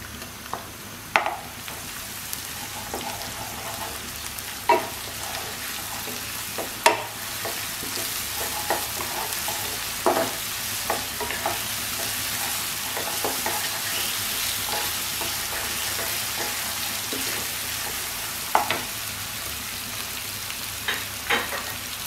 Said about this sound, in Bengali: এবার আমি যে আদা রসুন বাটাটা রেখেছি সেটা আগে দিয়ে দেবো